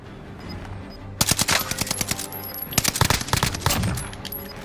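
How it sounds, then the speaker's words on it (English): Gunfire in a shooter video game comes as dense, rapid bursts of automatic shots in two loud clusters, each crackling run lasting about a second, over a steady background hum. "He gets a sniper shot in the closing seconds of the game."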